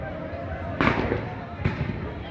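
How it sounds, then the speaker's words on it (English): Fireworks or flares at a street riot between Serb and Montenegrin crowds go off in two sharp bangs about a second apart over a constant crowd roar. "Seems like we got fireworks, or are those flares flying around?"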